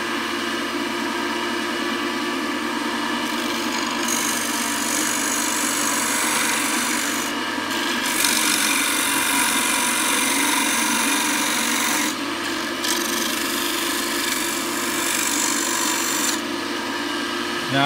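A woodturning gouge cutting a live edge bowl on a lathe gives a steady, loud, close rasping hiss that continues without a break, briefly dropping off a few times as the tool leaves the wood.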